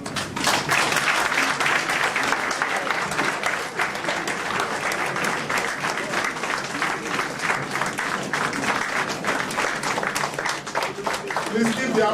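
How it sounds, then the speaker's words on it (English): Sustained, loud applause from a crowd in a press hall during a World Communication Day press briefing and birthday reception. Dense, steady clapping fills the whole stretch without letting up. "Keep the applause going."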